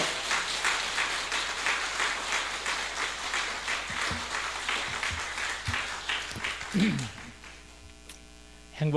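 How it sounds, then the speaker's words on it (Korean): A church congregation claps to welcome a pastor to the pulpit, sustained applause at moderate loudness with a steady electrical hum beneath it. The clapping fades out near the end and a brief voice follows. "이런 박수 못 받았다는 만큼 큰 박수로 환영하시기를 바랍니다"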